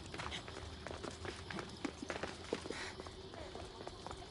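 Horse hooves clip-clopping at a run in Assassin's Creed Odyssey, a rhythmic series of quiet, fairly close impacts over a busy game soundscape with faint background voices.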